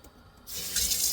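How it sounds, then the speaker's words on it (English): Kitchen water tap turned on, running into a big pot: quiet at first, then a sudden steady hiss and splash of water filling the pot, close and alone. "And turn my water on."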